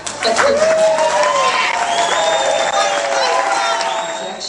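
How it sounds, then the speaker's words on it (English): Thunderous applause from a spring conference audience, with cheers and whoops mixed in, loud and sustained throughout and slowly easing toward the end. "Joe rises to accept thunderous applause"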